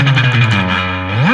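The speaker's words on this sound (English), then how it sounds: "Here is the surf preset. It's just kind of the quintessential. So it's using a bunch of reverb." A sustained, heavily processed surf electric guitar tone from an Ableton Live amp preset rings out alone, drenched in reverb with a bright, slightly gritty edge before bending upward at the end.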